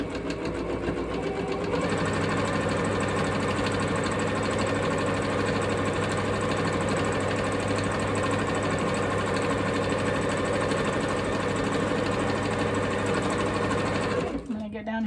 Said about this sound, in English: sewing around here, I'm catching all of those threads